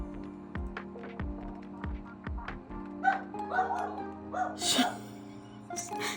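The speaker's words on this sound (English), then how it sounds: "She's still barking" A dog barks several times in short, sharp yips over a steady electrical hum, with some clattering and handling noise following.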